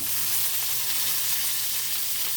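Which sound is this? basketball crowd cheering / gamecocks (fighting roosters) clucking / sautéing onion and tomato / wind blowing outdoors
sautéing onion and tomato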